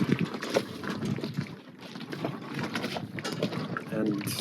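A sailboat crossing a strait, with water rushing steadily against the hull and gusty wind buffeting the microphone throughout.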